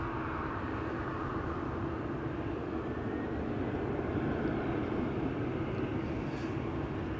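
A KLM Boeing 737 takes off from Schiphol's Polderbaan runway, a steady low engine roar heard from a distance at moderate level, continuous throughout without talk.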